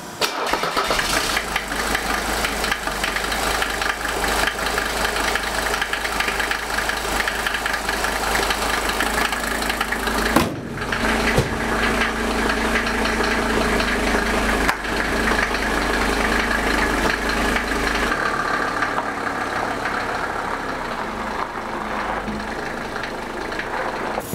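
A 1983 Mercedes 300TD's OM617 diesel engine, just after a vacuum pump repair, cranks and catches, then settles into a loud, steady idle with a gritty rumble that runs on without pause.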